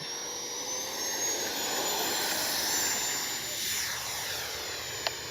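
An FMS Rafale 80mm electric ducted-fan RC jet model taxis with a continuous high whine and a steady roar, holding level at moderate distance, with a brief click near the end.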